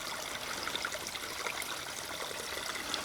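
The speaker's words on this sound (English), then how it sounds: "I just hope you enjoy the sound of the water" Outdoor water running downhill into a small pool makes a steady, close trickling and babbling flow that stays even throughout, with no voices.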